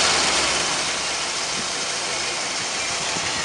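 A 1963 Oldsmobile Dynamic 88 sedan with a 394 V8, two-barrel carburetor and dual exhaust, idles steadily at close range, a continuous even rumble with no talk over it.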